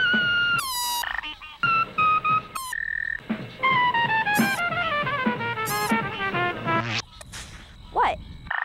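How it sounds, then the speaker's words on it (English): Frogs croak in a busy series of rising, buzzy calls, some sharp and clicking, one after another without pause, fairly close and loud. "A frog does the same thing when it blows air out of its mouth and over its vocal cords"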